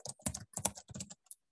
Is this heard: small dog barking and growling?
no